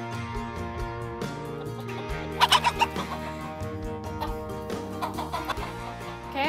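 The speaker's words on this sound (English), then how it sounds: "I'm in the chicken coop now" Chickens clucking inside a ranch chicken coop, with a brief burst of louder calls in the middle among steady low clucks and coop noise nearby.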